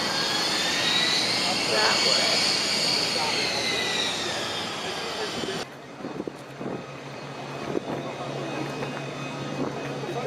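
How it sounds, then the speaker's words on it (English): A Fouga Magister, a French first-generation jet, roars past at an aerospace expo with a loud whining jet engine that sweeps in pitch and then cuts down abruptly to a distant rumble, while spectators talk nearby. "That's the Magister. Magister. The French first generation jet."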